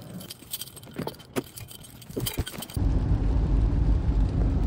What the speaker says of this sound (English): I grab my keys and I lock the door